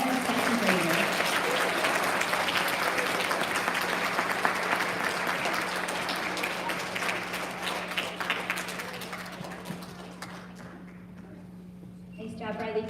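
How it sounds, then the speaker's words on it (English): Audience at an elementary school student recognition ceremony applauding second graders, a dense sustained clapping that holds steady for most of the clip before thinning out near the end, with a steady low hum underneath. "Can we get a big round of applause for all of our second graders?"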